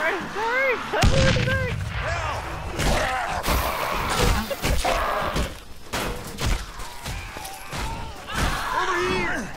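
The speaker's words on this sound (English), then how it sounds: "I chucked a grenade!" Grenade blast in the zombie game Dead Island: Riptide, a heavy boom near the start followed by further gunfire-like thuds and crashes, with people shouting over the game sounds.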